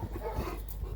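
Dogs whimper and give soft, brief yips in a short, close burst, with faint panting and no clear loud bark.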